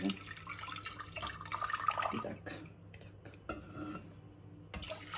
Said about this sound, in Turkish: Tencereye alıyorum sütümüzü.